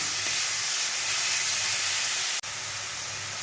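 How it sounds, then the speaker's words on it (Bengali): Grated beetroot fries in a hot pan with a loud, continuous hissing sizzle, close up, and a brief gap near the end. "এবার ভালো করে একটু নাড়াচাড়া করে ভাজা ভাজা করে নেব"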